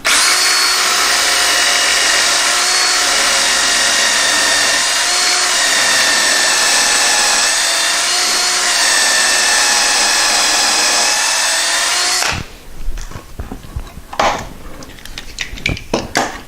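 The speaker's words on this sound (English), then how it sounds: "drill the hole." Loud, steady whine of a power drill boring a pocket hole for a fireplace mantel, running about twelve seconds, then it stops, followed by scattered clicks and clatter of handling.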